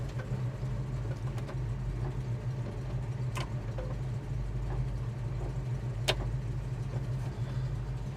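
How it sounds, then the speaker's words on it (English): A 1971 Chevrolet Chevelle SS idles steadily with a low, even engine rumble, while its windshield wipers run and add a few faint clicks and swishes over the drone. "Let's switch to wipers."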